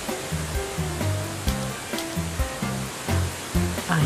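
A waterfall rushes in a steady broadband roar in the video game Deadly Premonition, loud and continuous, with a repeating low musical pattern running beneath it.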